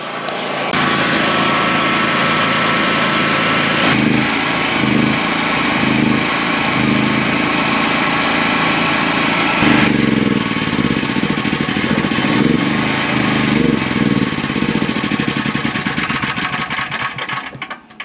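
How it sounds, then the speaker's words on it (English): A portable generator engine running steadily and loud beside a tractor repair in a field, its pitch wavering and sputtering near the end as it runs out of gas and cuts off. "So now I run it out of gas."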